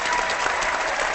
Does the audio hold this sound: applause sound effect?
yes